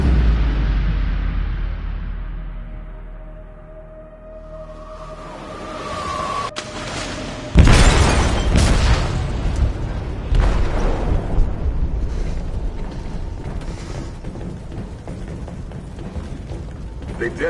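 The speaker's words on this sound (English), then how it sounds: "They detonated an explosive in the hold." An explosive detonating in a ship's hold in Detroit: Become Human: a sudden heavy blast after a building mechanical rumble, followed by sustained roaring, creaking debris and low rumble filling the rest of the scene.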